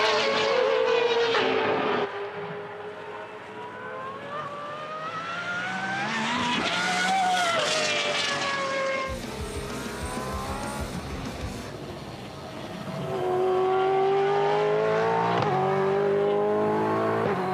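A Brabham BD62 race car at a time attack event screams past on track, its engine rising and falling through repeated gear changes with fading and returning passes, loud and without talk.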